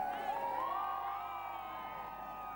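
A crowd gathered in Birmingham to greet Prince William and Kate, heard as steady cheering and whooping with children's shouts. The rising, sustained roar is continuous and fairly loud throughout.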